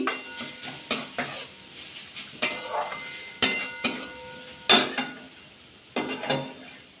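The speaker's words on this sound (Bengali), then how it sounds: "আর একটু নাড়াচাড়া করে নেব" A spatula stirs a cauliflower snack mixture in a pan over a low flame, making repeated scraping strokes and metallic clinks at an uneven rhythm over a faint sizzle.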